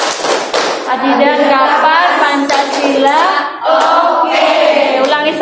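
Rhythmic group hand-clapping for the Tepuk Pancasila clapping chant in a classroom, steady patterned claps running throughout with voices chanting over them.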